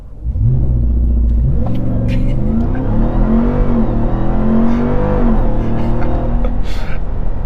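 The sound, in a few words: RAM TRX engine launching with launch control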